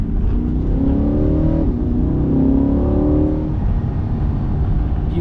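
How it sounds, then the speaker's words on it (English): A Corvette C8 exhaust in track mode, a loud, close engine note climbing through the revs, dropping briefly at a shift and rising again, with a deep rumble underneath. "Beautiful exhaust note in track mode."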